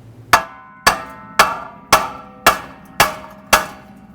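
Seven sharp metallic hammer blows strike the rear wheel hub of a 2000-2005 Buick LeSabre at an even pace, each clang loud and close with a short ringing decay.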